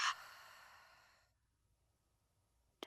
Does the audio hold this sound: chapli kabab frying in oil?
no